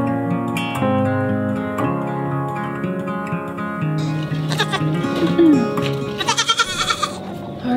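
A goat from a farm herd bleats several times, with loud, wavering, nasal calls standing out clearly against the other sounds in the recording.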